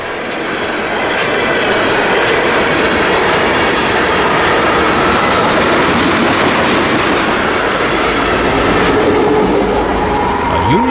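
CSX freight train K423 passing with Canadian Pacific SD70ACE and ES44AC locomotives, a loud close rumble with steady wheel clatter, and a brief squeal near the end.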